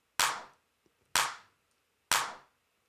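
Three punchy, heavily compressed clap hits from a Logic VCA compressor, evenly spaced about a second apart, each loud and sharp with a fading tail, alone with no talk.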